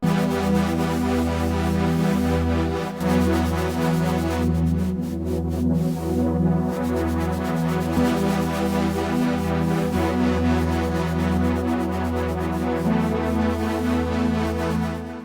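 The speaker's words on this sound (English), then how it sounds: "Synth Eclectic is this really noisy pad sound." Synth Eclectic, a noisy pad preset, holds a dense sustained wash of buzzing, hissy synth tones with slowly shifting textures and a faint throbbing low pulse, steady and loud throughout with no voices.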